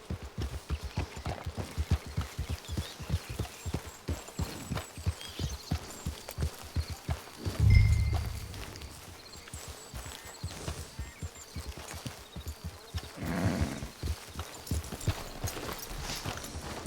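Horse hooves clip-clop steadily in the Red Dead Online video game, a rhythmic run of close, fairly loud hoofbeats over about seventeen seconds with a brief louder thump midway.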